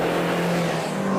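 A car driving hard on a test track while its tyres are being compared: a steady, loud engine drone with a sustained pitched tone, heard close and continuous.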